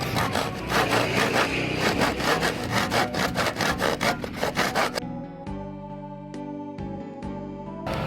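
A hand saw cuts through bamboo and wood in rapid, rhythmic rasping strokes for about five seconds, then stops, leaving a quieter tail with faint tonal sounds and a few light knocks.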